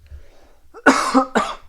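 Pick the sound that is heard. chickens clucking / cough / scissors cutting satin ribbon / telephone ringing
cough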